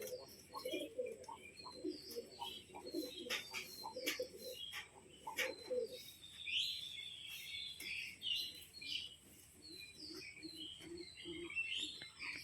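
Pigeons in a home loft, including a black-green bird wandering about, give soft repeated coos and bursts of chirping, with light shuffling and movement sounds throughout at close range.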